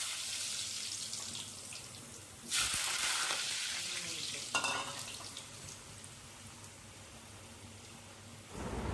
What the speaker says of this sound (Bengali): এবারে আমি এক এক করে আলু গরম তেলের ওপর ছেড়ে দেবো।